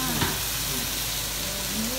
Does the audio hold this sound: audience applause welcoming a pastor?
no